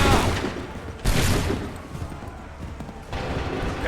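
A musket volley fired on command in the Assassin's Creed III video game, dense cracking gunfire bursts in repeated loud waves, close and booming with heavy reverberant tails.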